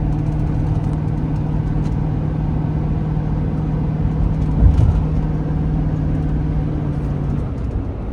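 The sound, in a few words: van engine driving up a hill incline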